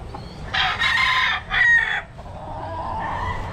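National Banded gamefowl stags crow close by, two strained crows in quick succession followed by softer background clucking and farmyard noise.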